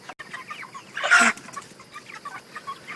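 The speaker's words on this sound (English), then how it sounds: "The chicks are now 5 weeks old today, and I just let them out to eat." Five-week-old chicks clucking as they are let out to eat, with soft scattered peeps and clucks throughout and one louder, brighter squawk near the middle, fairly close, with no talking.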